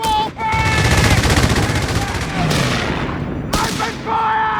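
Heavy sustained gunfire in a Company of Heroes 3 4v4 battle: loud, dense rattling bursts with booming impacts, nearly continuous with short breaks.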